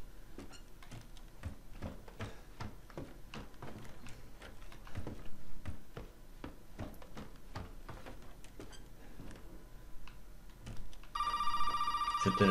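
Telephone ringing in Resident Evil 7, a bright electronic ring that starts near the end over a background of quiet ticking and tapping sounds.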